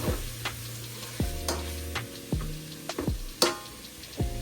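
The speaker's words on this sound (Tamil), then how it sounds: "கருவாப்பட்டை ஏலக்காய் மிளகு கராம்பு இதையும் போட்டு மிக்ஸ் பண்ணலாம்" Whole spices such as cinnamon, cardamom, pepper and cloves are stirred into chicken biryani in a rice cooker, producing faint scraping stir strokes and light ticking clinks at a slow, uneven pace, with no voices.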